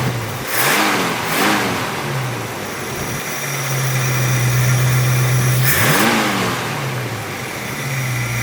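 A 1966 Ford Mustang with a 289 V8 runs nearby, settling into a steady idle between a few sharp throttle blips that rise and fall quickly.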